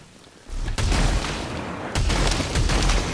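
The shotgun-like Spitmaw Blaster fires in the game Returnal, a loud burst of booming gunfire that starts abruptly, drops briefly, then resumes as repeated blasts amid dense combat noise.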